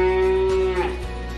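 A single drawn-out moo from a young Simmental bull calf, close and loud, with a steady tonal pitch that wavers and fades toward the end.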